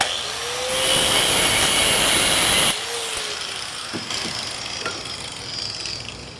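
Power tool cutting a part in half for a cafe motorcycle seat: a loud, close, steady whine for a few seconds, then a quieter grinding hum with scattered clicks and knocks.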